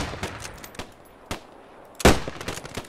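Rifle shots ring out in the video game Post Scriptum, a few sharp, isolated reports spread across a couple of seconds, the last one loudest and closest.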